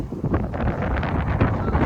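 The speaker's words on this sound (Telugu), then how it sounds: "విపరీతమైన గాలి అయితే వేస్తుంది" Strong gusty wind blasts across the microphone outdoors ahead of a storm, a loud, rough, continuous rumble with buffeting surges and no talk.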